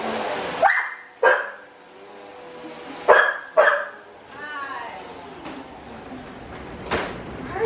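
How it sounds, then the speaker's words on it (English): A dog barks sharply several times in short pairs, close and loud, with quieter vocal sounds and a brief whine between barks. "Barking like that."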